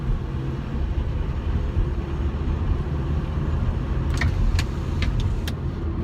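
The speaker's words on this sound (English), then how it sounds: "So as you can see, clutch in, shift. Now we're in second gear." A car with a manual transmission running in second gear, a steady low engine drone throughout with no one speaking.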